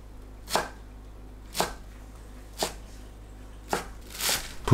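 Knife chopping enoki mushrooms into 1–1.5 cm lengths on a cutting board, five crisp separate chops spaced about a second apart, close and clear in a quiet kitchen.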